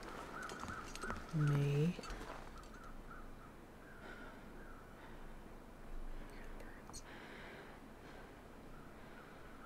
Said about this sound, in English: I hear the birds, but I don't see them anywhere